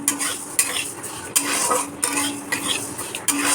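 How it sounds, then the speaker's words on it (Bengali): Mung dal being dry-roasted in a pan, stirred with a utensil that scrapes and clinks against the metal at a steady pace over a faint sizzle, close and clear, with no voices. "মুগ ডাল ভাজা বসিয়ে দিয়েছি"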